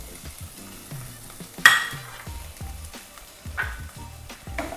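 Tofu is stirred through spices in a pan, with a soft sizzle and repeated spatula scrapes and clinks, including one sharp metallic knock, close up and without voices.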